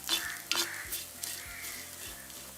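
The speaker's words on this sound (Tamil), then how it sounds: "இப்போ இதை சீரை நல்லா பொரிஞ்சிட்டு வாசம் பெறுது." Cumin seeds sizzle and pop in hot oil while greens are cooked, a soft crackling fry with light stirring clatter. Low talk can be heard faintly underneath.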